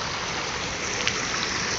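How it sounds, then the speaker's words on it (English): Rainwater from a cloudburst rushes down a street gutter toward a catch basin, a steady, close, broadband wash of running water with no pauses. "there's a lot of water coming down the gutter"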